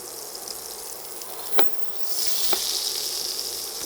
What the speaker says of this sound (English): I'm gonna use that to sear the steak, get some nice caramelization on the outside.